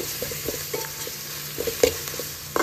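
Ginger garlic paste fries in a pan for paneer dum biryani, a soft steady sizzle with occasional scrapes and taps of a spoon stirring, quiet and close with no talking.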